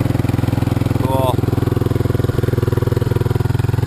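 A 1986 Honda TRX200SX ATV engine idles close by with a steady, even chug throughout, a brief faint chirp sounding near the start.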